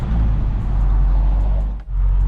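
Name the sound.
Audi RS3 engine with blow-off valve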